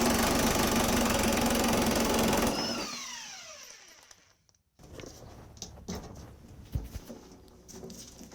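A ride-on mower's small engine runs loud and rattling, then cuts off and winds down over a couple of seconds. Faint clanks and handling noises follow in the quiet.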